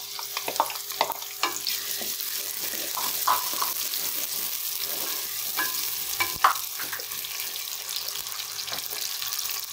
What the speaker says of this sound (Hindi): अब इसको फ्राई होने में तकरीबन 5 मिनट लगेंगे।